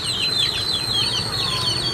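Chickens and chicks at a rainy poultry farm, a continuous chorus of high cheeping and clucking from many birds, close and steady, with faint wing flutters.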